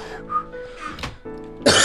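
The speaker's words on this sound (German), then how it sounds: "ich hab gehustet, mich nicht gestummt" A person coughs and clears their throat in a few short bursts at close range, with a sharper harsh burst at the end and no speech.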